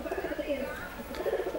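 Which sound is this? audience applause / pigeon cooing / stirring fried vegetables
pigeon cooing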